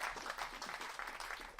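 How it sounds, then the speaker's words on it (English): Audience applause at the close of a panel Q&A on building a future-ready tech workforce in Bristol, a soft, steady patter of many hands held at a fairly low, even level for a moment. "I think we should give you all a round of applause."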